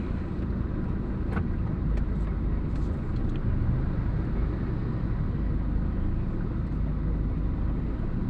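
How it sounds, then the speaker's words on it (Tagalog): Steady low rumble of idling and creeping traffic in a jam on EDSA heading to Cubao, a broad continuous engine and road drone with faint passing sounds, no one speaking. "kasalukuyan tayong natatraffic. EDSA parking"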